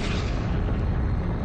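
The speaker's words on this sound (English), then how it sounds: "A massive but short-lived star exploded as a supernova." A massive star blowing apart as a supernova, rendered as a dense, loud, rumbling blast that fills the whole short span with no pause.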